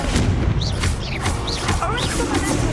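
Crackling blasts and whooshing magical spell effects from Hogwarts Legacy combat, with an explosive Confringo fire spell bursting amid dense, continuous game noise and swooping tonal effects.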